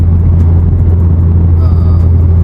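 A 700hp BMW G80 engine holds a loud, heavy, steady roar close by for the whole stretch, with voices faintly underneath.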